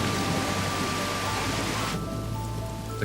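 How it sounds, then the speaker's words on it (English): Steady, loud downpour of rain falling just after a hailstorm, a dense continuous hiss with no voices, turning slightly softer and more even partway through. "As feared, the hail quickly turns into a downpour."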